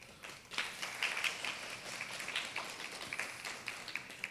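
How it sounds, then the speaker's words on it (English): A round of applause fills a graduation ceremony for new teachers at the ASU School of Education, many hands clapping in a dense, steady crowd wash that continues for several seconds at moderate distance. "Graduates, if you would give your families and friends and loved ones a round of applause"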